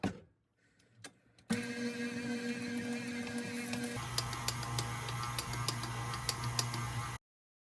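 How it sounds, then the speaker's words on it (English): A stand mixer fitted with a dough hook starts up after a few clicks and whirs steadily while kneading dough, its motor drone shifting pitch midway amid light rhythmic ticking before cutting off abruptly. "we're going to put on our hook attachment and use this to knead our dough"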